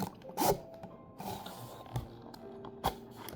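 A Nonfiction Santal Cream perfume box slides out of its cardboard packaging sleeve, making a few short, soft rustling swishes and scrapes close by in a quiet room, with no talking.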